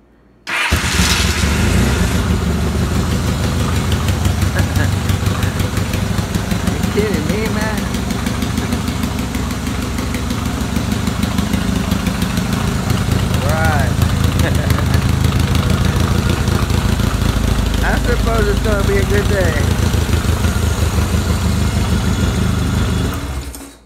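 An engine fires up from stone cold with a brief starter crank, then settles into a loud, steady, close idle that drones on for over twenty seconds with slight shifts in pitch.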